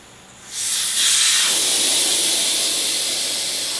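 Air hisses out of a motorcycle tire through its opened valve stem, starting suddenly and holding as a loud, steady rush close to the listener that slowly fades.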